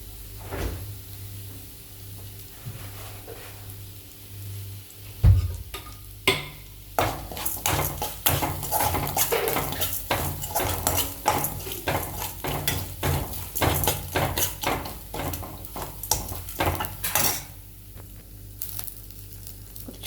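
Cooked jackfruit, grated coconut and curry leaves are stirred and tossed in a pan, giving a series of irregular scraping and clattering strokes over a soft sizzle after a sharp knock near the start.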